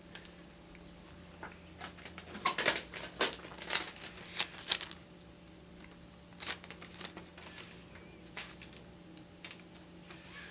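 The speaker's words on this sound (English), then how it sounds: "I'm going to use additional strips of packing tape to kind of wrap and hold that original packing tape underneath" Strips of packing tape pulled off the roll and wrapped around a chipped countertop edge, giving quiet crinkling tears and sticky rustles in irregular bursts, loudest in the middle of the stretch, with no talking.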